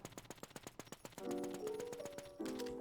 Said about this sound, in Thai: การยิงจะประมาณนี้นะครับทุกคน